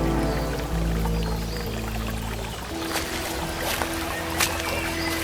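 A stream of water flows and trickles steadily with a soft, continuous babble, heard alone over a low sustained musical drone that shifts partway through, with a few brighter splashy accents.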